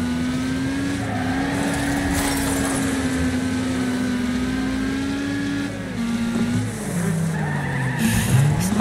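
A race car in Wreckfest oversteers and skids, its tires squealing in one long sustained screech that wavers and bends in pitch over the engine drone, loud and close.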